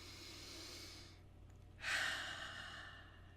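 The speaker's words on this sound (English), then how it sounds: "taking 2 more deep breaths in and out" A person taking slow, deep breaths, with a long soft exhale followed by a stronger airy inhale, close and quiet over a faint low hum.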